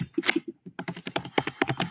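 Rapid typing on a computer keyboard while entering website navigation labels, a quick run of close, crisp key clicks with a short pause near the start, heard alone.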